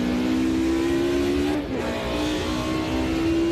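A Mercedes race car engine on the Nordschleife in Automobilista 2 screams at high revs, a loud continuous near drone with a brief dip and pitch change as it shifts, then climbs again, no talk.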